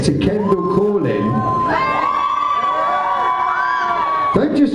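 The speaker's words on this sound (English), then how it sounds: "Don't just cheer like you're on top of the pops" Crowd at a live folk-punk gig by a musician at New Slang in July 2013 cheering and whooping, a dense, loud wash of shouts and yells with voices rising over it, sustained throughout.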